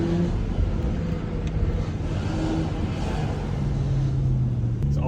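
A BMW 335i engine runs steadily while the car is driven, a smooth continuous low rumble with road noise from inside the cabin and no speech.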